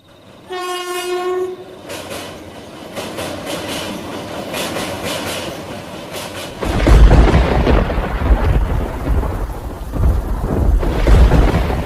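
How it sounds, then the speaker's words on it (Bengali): A train horn sounds at a rural station in a cartoon, then a heavy downpour with a deep, rumbling roll of thunder sets in and stays loud and continuous. "ট্রেন থেকে নামতেই শুরু হলো মুষলধারায় বৃষ্টি"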